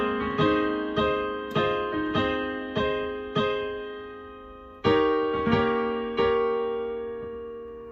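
Piano playing the chord pattern from a song, both hands together: repeated struck chords at a steady pace, each ringing and decaying, with a stronger chord midway, solo and without talk.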